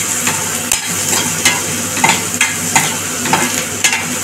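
Capsicum pieces and onion sautéed in a pan, with a steady sizzle and repeated scraping stir strokes at a loose rhythm, close and fairly loud with no voices.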